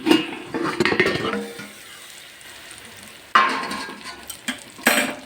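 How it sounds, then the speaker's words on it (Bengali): A lid comes off a pan of aubergine bhorta cooking over a low gas flame, with metallic clatters and scraping against the pan, then a soft sizzle and stirring. "আমি এবার ঢাকনাটা খুলি"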